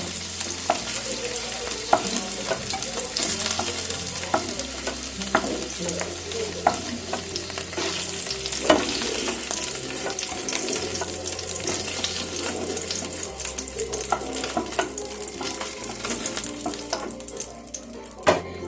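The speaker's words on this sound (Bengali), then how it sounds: "আমি এইভাবেই পনিরগুলোকে ভেজে নিই।" Paneer pieces frying lightly in oil, a continuous close sizzle punctuated by scattered clinks and scrapes of a utensil in the pan, with a watery, tap-like texture running through it.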